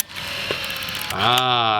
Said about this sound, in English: you press the start, you see, and it cocks the shutter